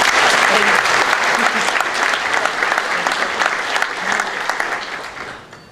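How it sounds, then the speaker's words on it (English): Audience applause at a game developers' conference keynote, a dense sustained clapping from a large indoor crowd that stays loud for several seconds before gradually fading toward the end. "Would you give him a round of applause"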